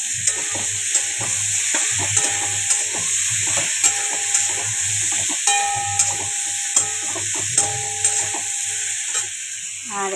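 Turmeric and tomato fried in hot oil in a pan for a vegetarian dish: continuous hiss and crackle with light stirring taps throughout, no talk.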